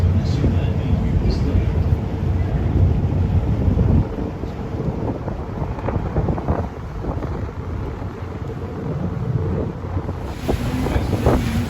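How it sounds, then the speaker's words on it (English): A boat engine rumbles low and steady under rushing water and wind buffeting the microphone, with voices faintly mixed in, on a boat touring the Thousand Islands from Rockport, Ontario. "Try not to talk over the boat here."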